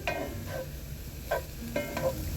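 Onions sautéing in a cast iron skillet, a soft steady sizzle with a few brief spatula scrapes standing out near and clear.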